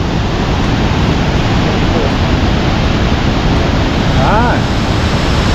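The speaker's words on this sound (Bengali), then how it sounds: "জলের আওয়াজ কি!" Steady broadband rush of a river along the Kanchenjunga trek, loud and continuous throughout, with a brief spoken word near the end.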